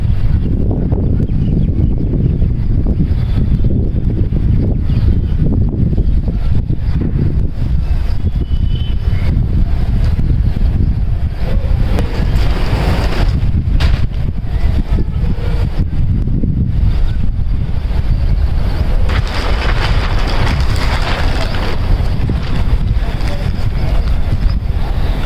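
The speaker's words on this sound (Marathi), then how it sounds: "वारं खूप सुटले. हातातलं सगळं निष्ठू चाललंय वाऱ्याने." Strong wind blows outdoors, roaring into the microphone in a loud, continuous rumble with gusting surges throughout, and no other sound stands out.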